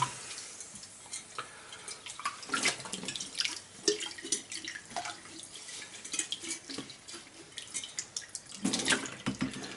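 Teaware rinsed under running hot tap water: a close, continuous splashing stream with irregular clinks and spatters as the pieces are turned beneath it.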